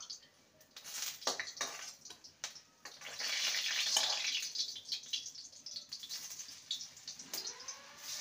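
Gram-flour dhoka cakes fry in oil with a fluctuating hiss and bursts of bubbling, broken by clinks and scrapes as pieces are handled in the pan.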